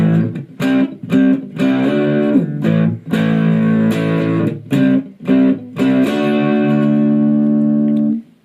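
Distorted electric guitar through a Vox practice amp plays a series of loud, sustained chords and notes with brief gaps between them, ending on a long ringing chord.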